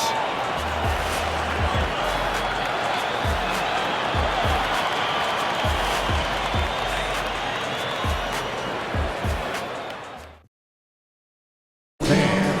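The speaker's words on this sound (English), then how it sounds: "Please give a big round of applause." Arena crowd applause and cheering in the NBA2K23 basketball video game, Spurs versus Hornets, a loud continuous roar with sneaker thumps and bounces beneath, cutting to silence briefly near the end before resuming.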